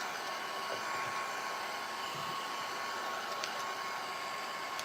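A hair dryer blows steadily on a freshly stained stencil project, a constant broadband whoosh that holds at even loudness through the whole stretch with no voices over it.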